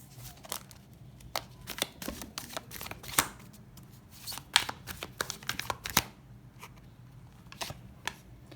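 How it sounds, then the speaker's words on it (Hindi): Tarot cards are shuffled and drawn by hand, producing close, quick papery flicks and riffles in irregular bursts with a few louder snaps. "और एक कार्ड लेते हैं।"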